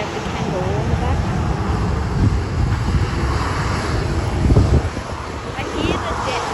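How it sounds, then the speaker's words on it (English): A Qantas jet airliner passes at Sydney airport, its engine roar a broad, sustained rumble with some wind buffeting, while a person talks over it nearby. "I hear the jet behind me."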